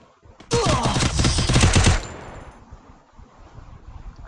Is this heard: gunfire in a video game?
yes